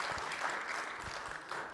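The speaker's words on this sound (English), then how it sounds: "round of applause" Brief, quiet applause from an audience at a book talk, a soft, even patter of claps lasting under two seconds.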